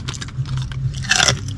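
Crunchy food bitten and chewed close to the mic, with a steady low hum underneath and a loud crisp crunch bursting out near the end.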